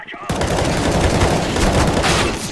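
Sustained automatic AK rifle fire in Counter-Strike: Global Offensive, a loud, dense burst of rapid shots starting abruptly and running continuously, with a raised voice briefly underneath.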